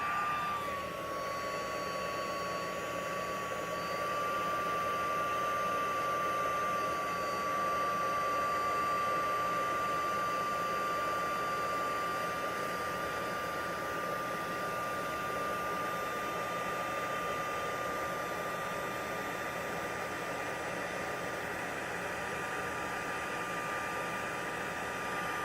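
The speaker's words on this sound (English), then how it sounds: "so it doesn't get hit with the heat gun. Okay, I'm heating it up again." A heat gun blows steadily over embossing powder in a craft foil technique, a constant loud whooshing hum with a faint high whine, holding unbroken throughout.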